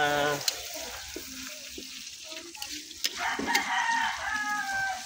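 Garlic sizzles and crackles in a hot pan for native chicken tinola, a steady hiss with scraping stirs, while a rooster crows a few times in the background.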